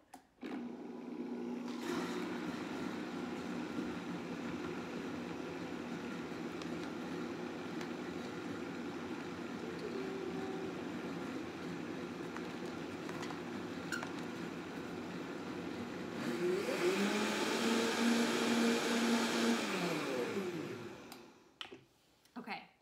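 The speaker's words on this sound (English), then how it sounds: "So I'm just gonna turn on the blender. It's gonna make it frothy." A blender whirs steadily as it froths a matcha drink, a continuous motor drone that swells louder and higher near the end before cutting off, with no talk over it.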